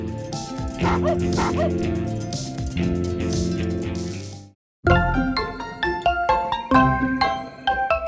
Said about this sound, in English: There are some renowned dog breeds that bark the most.